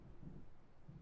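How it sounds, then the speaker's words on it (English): Low rumbling thunder from an approaching storm in the Alan Wake video game, two soft swells of distant rolling rumble over a steady quiet wash, faint and far off. "It seems there's a storm coming."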